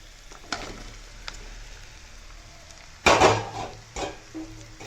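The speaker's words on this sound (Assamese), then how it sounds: "এতিয়া মই গাজৰখিনি দিম।" Grated carrots dropped into a hot pan with red chili and a little sugar for carrot pickle, then stirred; a sudden loud sizzle and scraping rises over quiet background clatter, then settles into softer stirring, no talk.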